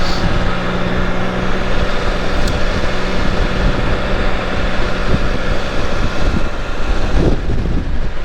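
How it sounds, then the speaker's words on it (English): Loud, constant wind roaring against the microphone, a dense rumbling blast that barely lets up from start to finish. "It's really windy today."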